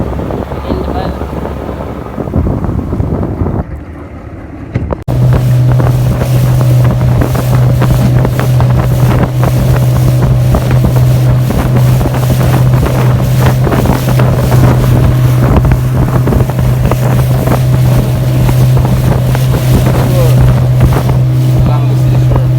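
A motorboat engine hums steadily under strong wind buffeting the microphone while riding along the seashore in St. Elizabeth, Jamaica, after a brief quieter start with water and wind noise.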